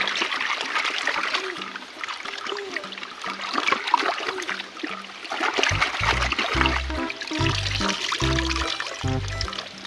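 A small river flowing and trickling in steady, splashing layers close by, with brief water dribbles, while low tonal music pulses underneath in the latter half.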